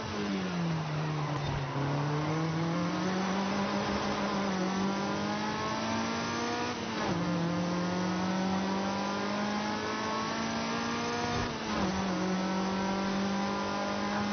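A 2016 Mazda MX-5 ND driving and accelerating, its engine note climbing steadily in pitch through a held gear, with brief gear changes, heard from inside the car over road noise.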